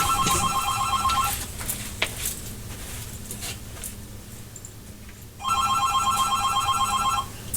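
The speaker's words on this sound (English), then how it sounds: "just when I reach to pick up the phone, it hangs up" A telephone rings with electronic trilling bursts, one at the start and another near the end, separated by a quieter gap of faint background noise and small knocks. The rings are fairly loud, and no one speaks.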